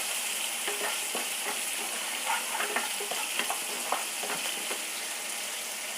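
Three or four green chillies sizzle in hot oil in a pan while being stirred, a steady crackle with scattered scraping taps of the spoon, close and fairly quiet.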